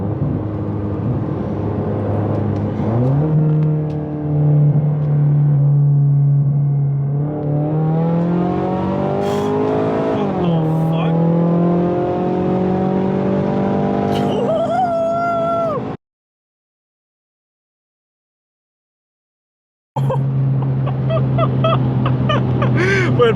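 Big-turbo Ford Mustang EcoBoost running E30 fuel, accelerating hard from inside the car with a rising engine note, a gear change, then another strong pull with turbo whine, a sudden silent gap, and the roar returning.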